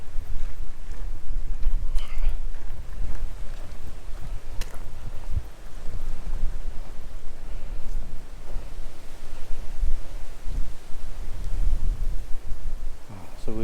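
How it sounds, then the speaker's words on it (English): Strong wind blows continuously across the open Ridgeway trail, a loud, rough roar buffeting close with gusty low rumbles throughout. "the wind's picked up and there's dark clouds"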